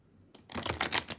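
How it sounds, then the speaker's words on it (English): A deck of cards being shuffled during a full moon tarot reading, a quick run of crisp riffling clicks that builds after a short quiet start, close and fairly soft. "Even the cards feel like they don't want to shuffle"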